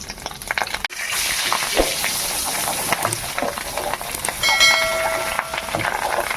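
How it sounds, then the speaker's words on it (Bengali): Fish roe fries in a pan with salt and turmeric, giving a close, steady sizzle and crackle with occasional scraping from stirring. "বন্ধুরা মাছের ডিমটা আগে একটু ভেজে নিই"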